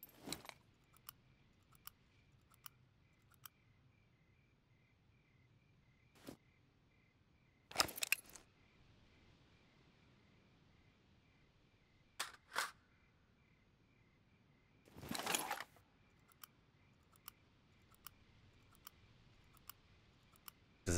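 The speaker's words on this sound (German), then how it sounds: "Das hat nur 7 Schüsse, ne? Die gehen ziemlich schnell da rein." Rounds being loaded into a magazine in the survival video game SCUM, heard as sparse, sharp metallic clicks and a few louder clattering bursts, spaced irregularly over a quiet background.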